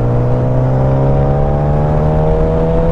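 A sport motorcycle engine revs loud and close during a rev-matched gear change, its strong buzzing tone sliding slightly lower in pitch as it holds, with no voices over it.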